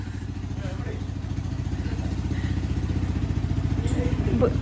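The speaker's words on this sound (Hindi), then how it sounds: "बाइक स्टार्ट क्यों की तूने?" A motorcycle engine runs steadily at idle after being started, a close, continuous low throbbing that grows slightly louder toward the end, with faint voices in the background.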